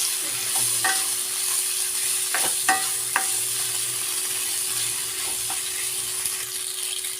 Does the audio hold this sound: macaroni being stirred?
yes